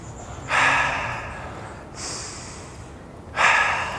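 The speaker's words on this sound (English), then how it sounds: "Breathing in through my nose, out through my mouth." Deep belly breathing during half-marathon training warm-up: three audible breaths, each a sharp nasal intake followed by a slower airy exhale, close to the microphone with short pauses between.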